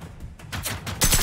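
Rapid AK rifle bursts in a video game, loud and close, in quick repeated volleys ending in a heavier burst.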